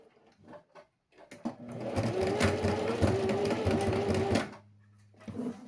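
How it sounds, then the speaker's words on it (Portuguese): A sewing machine runs a short safety seam in one steady burst of rapid stitching, loud and close, with quiet handling before and after. "vou fazer uma costurinha de segurança em cima disso"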